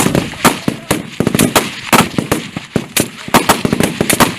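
Rapid, loud gunfire from a team shooting at targets on a range, with sharp irregular bursts of shots crowding close together throughout.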